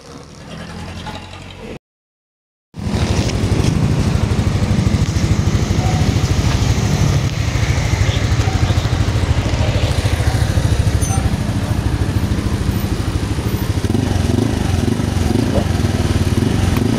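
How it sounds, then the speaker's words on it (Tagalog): A motorcycle fitted with a chicken pipe exhaust revs loud and close, a rough, sputtering exhaust roar that holds steady after a brief silence near the start. "So yan ang tunog ng ating motor."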